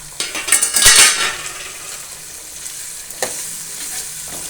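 Chopped tomato hits a hot pan while cooking semiya kichadi, a loud burst of sizzling and frying, followed by a scrape of a utensil against the pan, then a steady quieter sizzle.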